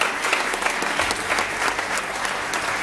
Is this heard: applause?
yes